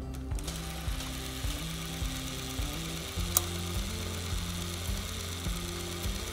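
The winding mechanism of a 1940s vintage camera gives a steady, close ratcheting whir of gears and pawl clicks that runs continuously with one sharper click partway through.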